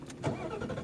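A 2021 Mustang GT V8 engine rumbles low and throaty as it starts, brief and fairly close.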